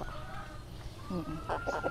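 A native chicken gives a few short, close clucks near the end, over steady low background noise on a farm where artificial insemination is being done.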